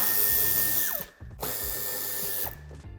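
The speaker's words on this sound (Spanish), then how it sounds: "Y en ambas esquinas quitaremos el tornillo de Torx de 25." A power drill spins Torx T25 screws out of the bumper corners on a 2018-2020 Volkswagen Golf VII Sportsvan. Loud, close whirring bursts rise and fall in pitch as the tool speeds up and slows, with a brief pause between runs.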